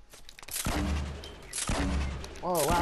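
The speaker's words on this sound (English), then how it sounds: "He just started shooting at me." Bursts of gunfire in the Fortnite video game, two loud clusters of rapid shots a second apart and another burst at the end, with shots close and sharp against game background noise.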